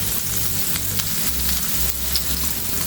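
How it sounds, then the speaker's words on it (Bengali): A cup of onions sizzles in the oil left from frying fish, a constant crackling hiss close up over a soft repeating background tune. "পেঁয়াজটা একটু ভেজে নিব।"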